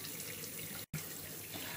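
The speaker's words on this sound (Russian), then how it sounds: "Мы упорно второй раз смываем лицо." Tap water runs steadily into a bathroom sink while a face is rinsed, a close continuous splashing hiss with one brief cut in the middle.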